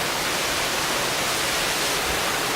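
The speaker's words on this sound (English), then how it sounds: "Rainstorm, it's a rainstorm!" Heavy rain pours down in a rainstorm, a loud, dense and unbroken hiss of falling water with no voices.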